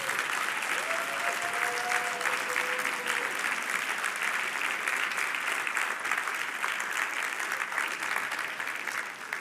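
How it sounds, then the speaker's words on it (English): Large conference audience giving a sustained round of applause for event speakers and organizers, dense continuous clapping filling the hall at even loudness, with a brief faint tone near the start. "let's give these people a round of applause"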